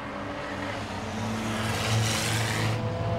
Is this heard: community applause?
no